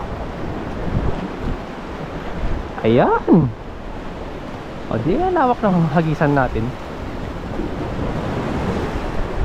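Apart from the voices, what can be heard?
ocean waves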